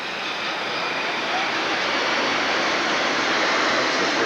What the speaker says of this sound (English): That's the first airplane we've heard that close